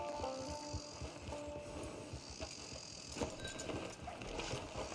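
Horse hooves in a video game set around a camp, a steady near clip-clop of walking hooves with faint ambient game sound underneath.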